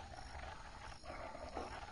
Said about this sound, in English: The wolf won't let me pass.